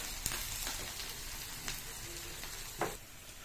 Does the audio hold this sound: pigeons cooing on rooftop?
no